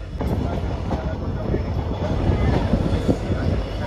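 The Sabarmati Express 19718 rumbles and clatters as it pulls away after a technical halt, heard from on board with a steady loud rolling noise and scattered rail knocks.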